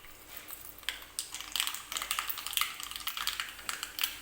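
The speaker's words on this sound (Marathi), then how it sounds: "तेल गरम झालेलं आहे मी गॅस बंद करून घेते आणि मोहरी टाकून घेते" Mustard seeds splutter in hot oil after the gas is switched off, a tempering for chutney. Sharp, close, irregular pops crackle rapidly throughout.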